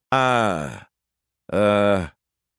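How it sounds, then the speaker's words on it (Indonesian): Two long, heavy, groaning exhales, close and loud, separated by a short pause; the breaths sound voiced and rough rather than airy. "Gue dengar ada suara napas."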